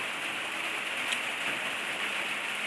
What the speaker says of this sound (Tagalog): Ulan kasi dito eh.